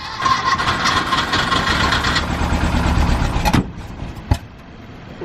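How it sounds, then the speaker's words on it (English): A cold, 40-year-old air-cooled four-cylinder in a Porsche 914 runs loud and steady, then cuts out abruptly, followed by a brief sharp knock and quiet. "We got a cold, air-cooled 4-cylinder that's 40 years old."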